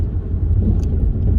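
Volkswagen Golf R32 cruising at about 28 mph, heard from inside the car as a steady, low road and engine rumble that continues without a break and no talk.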